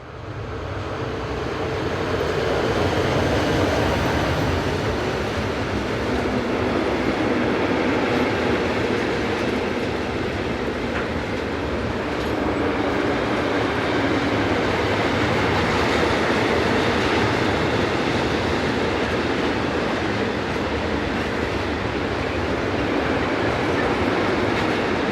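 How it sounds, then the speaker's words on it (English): A Swiss passenger train from Konstanz to Biel, with locomotive 460068 on the rear, passes on the railway near Zurich with a loud, steady rumble and wheel clatter lasting the whole stretch, no voices. "Finally, 460068 arrives on the rear of this train from Konstanz to Biel."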